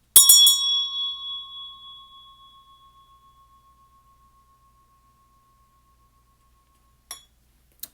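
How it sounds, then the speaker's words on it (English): A single bright bell is struck once and rings out, its tone slowly decaying over several seconds in a quiet room, followed later by two faint clicks. "So I'm going to go ahead and ring my bell."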